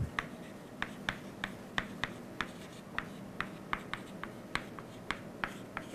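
Marker or chalk taps and strokes across a board in a steady run of short, sharp ticks while equations are written, close and fairly faint over a low room hum, with no voice.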